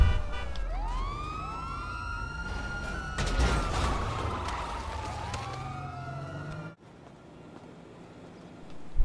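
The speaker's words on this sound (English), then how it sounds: "just a random ass police car" A police car siren wails in GTA 5, sweeping up and down loudly over traffic noise for several seconds before cutting off abruptly into quieter ambience.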